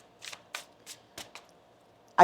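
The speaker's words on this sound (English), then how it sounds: "One more shuffle here, please, and thank you." Tarot cards shuffled close by in several short, crisp riffling bursts with brief gaps between them, ending in a sharper snap.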